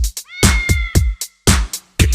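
A cat meows in short, repeated bursts that fall in time with sharp rhythmic thumps, loud and close, with no talking.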